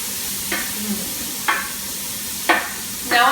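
Onions and garlic sizzling in a pan alongside sliced baby bella mushrooms, with a continuous close hiss broken by four sharp scraping pushes as the pieces are spread around, and no one speaking.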